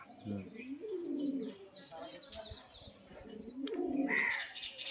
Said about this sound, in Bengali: দেখে মনে হয় সব এক লাইনের পায়রা